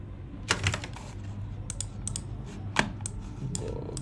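Keys clacking on a computer keyboard while code is typed for a React project, in short irregular bursts with a few sharper individual strikes over a low steady hum, fairly close and with no talking.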